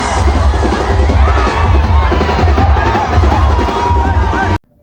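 Large, loud crowd at the Kolhapur Ganesh arrival procession, a constant roar of voices and cheering that cuts off abruptly at the end.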